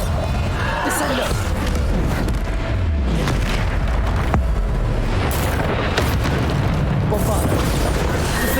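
Bombarda blasting spells in Hogwarts Legacy combat go off as repeated heavy booms inside a loud, dense wall of battle noise. Character voices call out over the clamor throughout.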